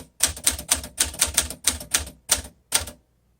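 A 1952 Smith Corona Sterling manual vintage typewriter being typed on, about a dozen crisp key strikes in a quick, slightly uneven rhythm, close and clear, ending in silence.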